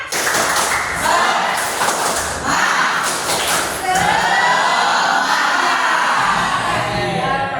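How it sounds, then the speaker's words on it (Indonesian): A classroom of students performs the tepuk semangat clapping chant, loud rhythmic group claps with thuds interleaved with voices chanting along throughout. "Ayo tepuk semangat"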